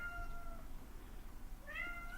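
A cat meows twice nearby, a short cry at the start and a rising one near the end, with a quiet indoor room between and no talking.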